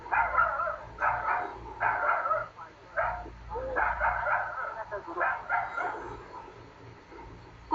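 A dog barking at a leopard trapped down a well, repeated bursts of barking and yelping with short pauses, moderately close, with voices talking underneath.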